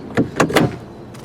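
A stuck door on a 2000 Toyota Camry being tried: a few quick clunks and rattles close up, the latch failing to release, with no talking.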